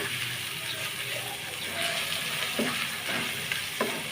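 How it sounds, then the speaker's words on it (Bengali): Food fries in a pan for a taro-leaf dish as turmeric powder and salt are stirred in. A steady sizzle runs under scraping stirring strokes, with no talking. "সামান্য পরিমাণে হলুদের গুঁড়া দিয়ে আমি নেড়ে চেড়ে ভালোভাবে মিশিয়ে নিব"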